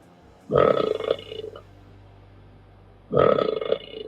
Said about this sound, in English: it makes me burp